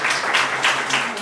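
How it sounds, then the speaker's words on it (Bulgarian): Audience applause greets a kindergarten group's performance, a brief burst of steady clapping from a room full of people. "те заслужават вашите аплодисменти."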